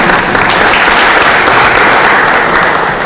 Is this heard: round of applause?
yes